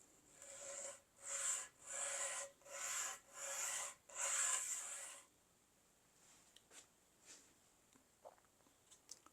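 Sandpaper rubs over wood for a mosaic rosette in about six rhythmic back-and-forth rasping strokes, close but soft, followed by faint handling noises.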